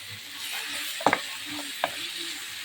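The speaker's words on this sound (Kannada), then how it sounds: "ಇವಾಗ ಅದಕ್ಕೇ ಸ್ವಲ್ಪ ಶುಂಠಿ ಬೆಳ್ಳುಳ್ಳಿ ಪೇಸ್ಟು ಹಾಕಿ ಚೆನ್ನಾಗಿ ಫ್ರೈ ಮಾಡ್ತಾಯಿದ್ದೀನಿ." Ginger-garlic paste frying in a pan for chicken pepper dry, with a constant soft sizzle and a few sharp spatula scrapes and clicks as it is stirred.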